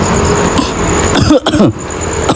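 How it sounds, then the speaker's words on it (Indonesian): A few loud, close coughs in a short cluster, harsh and raspy, over a steady background hum. "batuk aku."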